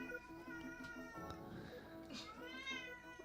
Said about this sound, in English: Can you guys hear my cat screaming in the background?